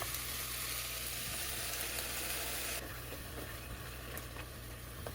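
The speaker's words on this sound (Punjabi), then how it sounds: "ਆਪਣੇ ਪਿਆਜ਼ ਭੁੱਜ ਚੁੱਕੇ ਨੇ ਤੇ ਹੁਣ ਆਪਾਂ ਪਾ ਦਵਾਂਗੇ ਟਮਾਟਰ" Tomatoes tipped into a pan of fried ground onion, garlic and ginger for palak paneer set off a steady, close sizzle and crackle of frying that continues throughout with no voices.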